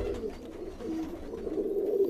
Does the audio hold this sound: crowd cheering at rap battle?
no